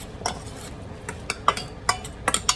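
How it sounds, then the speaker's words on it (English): A utensil stirs tomato basil sauce with meat in a pan, with scattered scraping clinks and light taps against the pan, fairly close and moderately quiet, with no talk. "So we got tomato basil. I'm just going to start stirring it up."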